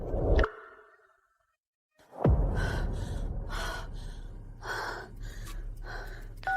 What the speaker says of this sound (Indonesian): Aku sesak napas.